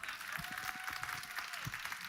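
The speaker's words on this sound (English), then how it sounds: "Give this lady a round of applause." An audience at a Nordic Business Forum live stage event claps in a brief burst of dense, steady applause, heard fairly close with no talk over it.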